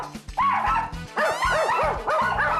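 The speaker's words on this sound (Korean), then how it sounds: "짖는 이유가 다 달라" Several excited dogs bark and yip in rapid, overlapping bursts during a veterinarian's home visit, close and loud with whiny, high-pitched tones mixed in.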